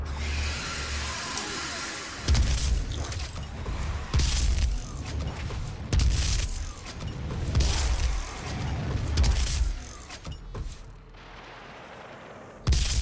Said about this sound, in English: Gauss cannon.